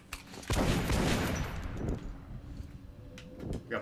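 Gunfire from Metro: Last Light erupts in a dense close burst that rumbles and rattles, then trails off into scattered fainter shots and clatter.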